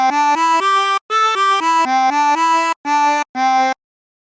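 A harmonica plays a short phrase of Turkey in the Straw, a string of clear blown and drawn single notes in quick rhythm with brief gaps between the groups, close and fairly loud with no voices.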